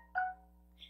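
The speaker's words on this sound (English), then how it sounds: "that beeping, that was my phone" A mobile phone gives a short electronic beep, a single brief tonal chirp followed by a fainter high blip, close and quiet over a steady low hum.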